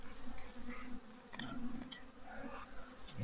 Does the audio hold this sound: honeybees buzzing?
yes